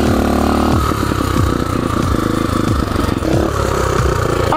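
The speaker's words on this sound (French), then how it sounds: "la moto est à peu près à caler" Enduro motorcycle engine idling unevenly and close by, its rough low pulsing stumbling as if about to stall, with clattering mechanical noise and a brief uneven rise in the middle.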